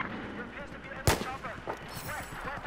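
A single loud gunshot from Battlefield 4 cracks out at mid-clip, sharp and near, while a player keeps talking over quieter game noise before and after.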